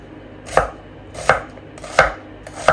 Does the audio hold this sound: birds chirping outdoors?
no